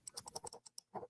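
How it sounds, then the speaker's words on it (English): A computer mouse clicks right against a microphone in a rapid, uneven burst of sharp, close clicks lasting about a second. "It sounds like you're like clicking the mouse right into the microphone."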